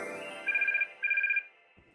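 Phone ringtone announcing an incoming call, two short bursts of a bright electronic trilling tone in quick succession, clear and fairly close, followed by a faint rustle.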